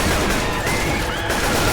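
Gunfire in the zombie shooter Left 4 Dead, a dense, loud burst of continuous rapid shots filling the whole moment with no pause.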